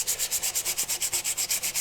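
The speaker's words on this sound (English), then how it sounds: "So when you're sanding these, you've got to be really careful not to break them" Rhythmic hand sanding of small wooden pieces, a steady back-and-forth scratchy rasp repeating about every eighth of a second, close and clear.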